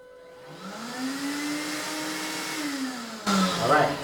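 A Festool 36 Volt CT Midi dust extractor spins up from quiet into a steady whirring motor drone, holds at speed, then shifts abruptly near the end to a louder, rougher rush, heard up close.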